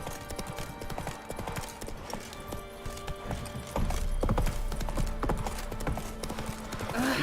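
Horse hooves clip-clop at a steady trot in The Witcher 3 video game, with occasional whinnies over busy game ambience and mechanical background sounds; the gait grows louder and heavier partway through.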